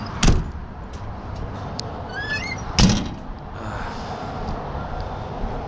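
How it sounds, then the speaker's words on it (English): Truck trailer doors swung open while the driver waits at a pickup, two loud metallic clunks a few seconds apart with a faint squeak between, close by against steady outdoor background. "while I'm waiting, might as well get my doors open"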